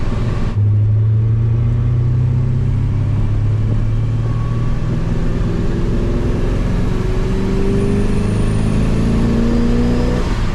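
A procharged Pontiac GTO cruises in gear at low RPM, held without shifting, producing a loud, steady engine drone with a slowly rising whine, close and continuous throughout.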